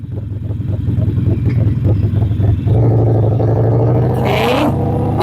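A motorcycle rides along with a rumbling, chugging engine close by, then opens up with a rising revving surge near the end.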